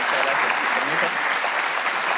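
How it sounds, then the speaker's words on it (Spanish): An audience at a live comedy show at Centro Mori bursts into thick, sustained applause, many hands clapping at once with a voice briefly cutting through the din. "Un aplauso para este grupo familiar."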